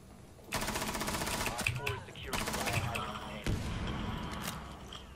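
Sustained automatic gunfire in Rainbow Six Siege, loud close bursts running almost continuously with brief breaks, plus thuds and impacts mixed in.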